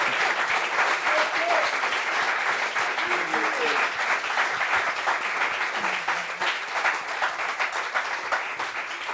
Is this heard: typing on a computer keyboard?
no